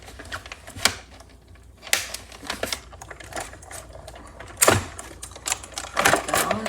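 A die-cutting machine cranked by hand with a tackle box die inside, giving a run of close, irregular mechanical clicks and clacks with rattling bursts throughout and no talking.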